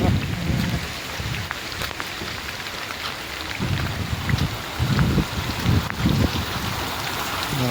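Steady rain pours over waterlogged cotton fields on a stormy day, a dense continuous patter with low rumbling surges like distant thunder rolling through.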